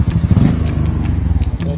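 Honda Forza 300 scooter with a fiberglass-packed exhaust, giving a steady, close, low throbbing engine rumble with a slight rise in pace near the end and no talking.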